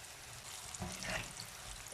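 Chicken pieces frying in hot oil give a soft, steady sizzle with a brief swell of bubbling and stirring partway through, faint and without talk.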